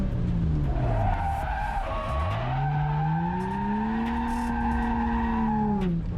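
A Nissan 350Z drift car sliding on a handbrake turn, tires squealing in long wavering tones over engine noise, continuous and fairly distant.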